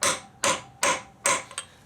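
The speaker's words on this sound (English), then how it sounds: "I've just been hammering that down" A wheel bearing is driven into a Suzuki DR650 rear wheel with four sharp metallic hammer blows at a steady rhythm, followed by a lighter double tap, close and loud with no talking.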